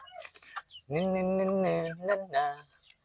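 A rooster gives a long, drawn-out call followed by a couple of shorter squawks, close by, with faint farmyard noises around it.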